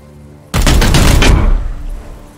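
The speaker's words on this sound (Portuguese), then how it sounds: "Vamos atirar em você." Loud burst of rapid gunfire in the Warhammer 40,000 game Chaos Gate - Daemonhunters, a dense volley of overlapping shots lasting about a second before trailing off into a fading rumble over a low background hum.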